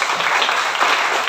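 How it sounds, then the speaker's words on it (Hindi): A short burst of dense clapping from a gathered group at an ashram event, steady and fairly loud for about a second. "तालियां तालियां भाई।"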